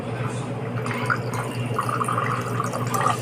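Water from a pressure hose rushing and splashing into a floor drain, a steady wet hiss with gurgling patches, while people talk nearby.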